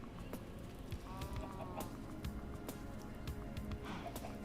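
Chickens in a blocky crafting game cluck and chatter in a farm setting, with short sharp clicks and taps scattered throughout at moderate loudness and no talk.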